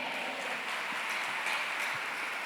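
A church congregation applauds the Lord during a worship service, a steady, even wash of many hands clapping at moderate distance with no voices standing out.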